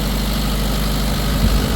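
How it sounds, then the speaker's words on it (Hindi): Mahindra 30 kVA diesel generator engine running steadily under full load, a loud, even low-pitched drone with constant vibration and no pauses. "बिल्कुल साफ इंजन चल रहा है"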